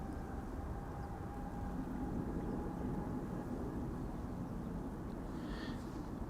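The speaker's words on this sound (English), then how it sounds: "Delta Airlines flight 143 to Seattle, Washington is an A330 Neo, spooling up right now." Jet engines of a Delta Airlines A330neo spool up at Amsterdam Schiphol Airport, a steady broad roar with a faint whine, heard from a distance and unchanging in level.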